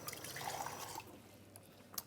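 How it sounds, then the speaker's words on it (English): Water trickles faintly down the spout of a food processor onto pie crust dough for about two seconds, with a few soft drips and no voices. "I'm pouring the water down the spout and the top."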